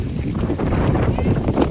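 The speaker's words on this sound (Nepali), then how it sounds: "हावा चलिरहेको छ" Wind blows near a large lake, a gusty rumble buffeting the microphone up close for a couple of seconds with no break.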